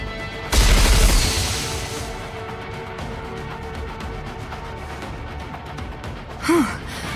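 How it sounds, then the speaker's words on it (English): Missiles launch and explode in the video game Goddess of Victory: Nikke, a loud boom followed by a long rumbling barrage, then a second short blast with a falling whoosh near the end. "Missile container online. Firing missiles now."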